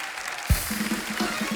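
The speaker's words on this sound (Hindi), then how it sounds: "एक बार जोरदार तालियां हमारे मेहमानों के लिए।" Studio audience on a Hindi comedy talk show applauding arriving guests, a sudden thump followed by a broad wash of clapping alongside a faint repeating musical tone.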